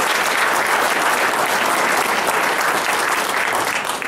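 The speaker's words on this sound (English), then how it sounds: "Alan, big round of applause." Seminar audience of realtors breaks into steady, loud applause, dense clapping that holds evenly throughout without talk.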